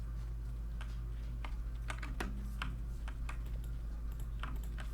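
Keys on a computer keyboard clack in quick, irregular bursts over a steady low electrical hum, the taps close and crisp during gameplay.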